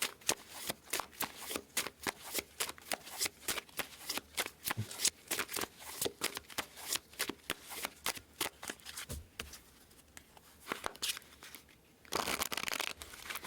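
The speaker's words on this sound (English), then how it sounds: "let's cut the deck here" A tarot card deck being shuffled by hand, close and crisp, with rapid repeated riffling bursts in a steady rhythm, a brief pause, then a louder final flurry as the deck is cut.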